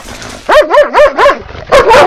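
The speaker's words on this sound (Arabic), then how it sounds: "هيديو كلب بيتبول" A pit bull gives a quick run of loud, close, wavering yelping barks, one burst of four or five, a brief pause, then another.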